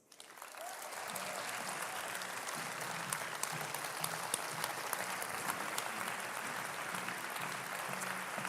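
Audience at the Liberal Democrats party conference applauds an award winner, steady, dense clapping rising quickly and holding at an even level across the hall, with a faint tonal hum underneath.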